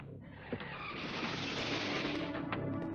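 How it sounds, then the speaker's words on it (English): Tyres skid and scrape beneath a sustained roar in a reenactment of the 1955 crash of a 1950s car, a broad continuous rush with a couple of sharp squeal accents, fairly faint and steady throughout. "The accident again, from Dean's viewpoint."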